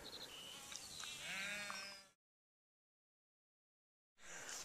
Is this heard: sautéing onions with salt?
no